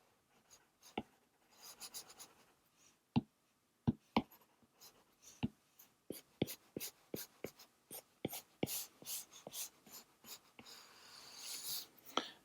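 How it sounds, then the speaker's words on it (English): A pencil eraser rubs guidelines off drawing paper in a series of short, close, soft scrubbing strokes. It starts sparse, then settles into a quicker rhythm that becomes denser and more continuous near the end. "I'll go back and erase my guidelines"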